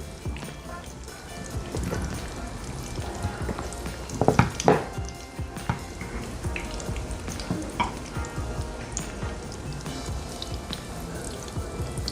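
Tinned mackerel fries in a pan, a steady crackling sizzle with scattered pops and spits and a louder burst midway, as the pieces are turned, with no talk.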